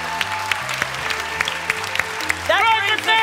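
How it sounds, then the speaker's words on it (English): Theatre audience at the Sydney Opera House clapping in scattered, uneven bursts, then a short swell of cheering and whooping near the end, heard at moderate distance. "Ladies and gentlemen, a round of applause to Osher Günsberg."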